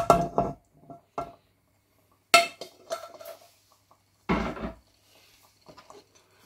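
Chunks of aubergine are tipped into a pan of pasta sauce for pasta alla Norma, making a few close, sharp clacks and scrapes of utensil against pan separated by silent gaps.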